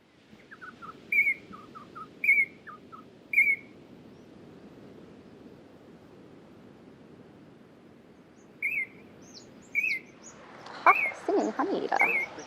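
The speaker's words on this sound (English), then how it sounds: "Singing honey eater." A singing honeyeater calls in a coastal Western Australian setting, giving several short, bright, clear notes spaced a second or so apart. More notes follow after a pause, and a denser burst of calls ends the recording over faint background hiss.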